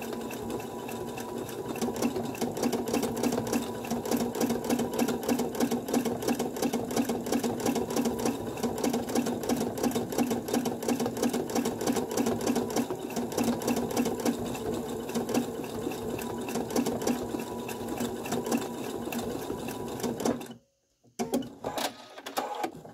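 A sewing machine stitching thread runs steadily and loudly close by, its fast even needle clatter continuing for about twenty seconds before stopping abruptly, followed by a couple of brief bursts.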